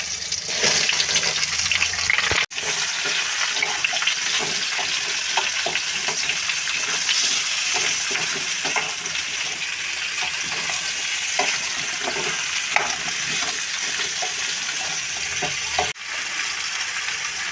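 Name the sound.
mango pieces frying in hot oil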